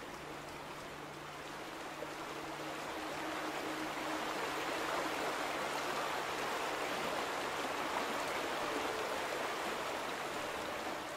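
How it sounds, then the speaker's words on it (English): Constant rushing of flowing water in the video game The Vanishing of Ethan Carter, a dense steady roar that builds slightly and stays even throughout, with no voices. "And that water is really loud."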